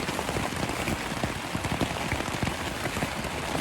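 Heavy rain drums steadily on a camping tent fitted with a rain fly, a dense, continuous patter of close drops with no pauses and no talking.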